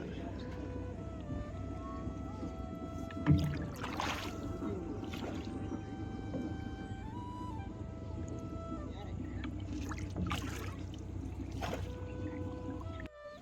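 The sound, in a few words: boat crossing the river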